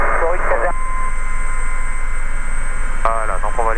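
Steady, loud helicopter engine and rotor noise from inside the cabin during a basic helicopter flying lesson, a constant drone filling the whole clip, with voices over the intercom speaking at the start and end.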